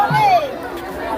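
Crowd chatter fills the air at the busy Gouranga Bari temple, a close, loud babble of overlapping voices with one voice rising clearly above the murmur.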